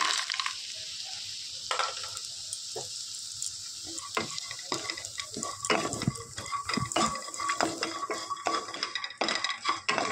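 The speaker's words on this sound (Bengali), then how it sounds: "এখন আমি বড়িগুলো দিয়ে হালকা ভেজে নেব।" Steady crackling sizzle of lentil dumplings frying in hot oil in a pan, with occasional clinks and scrapes of a spoon against the pan, close up.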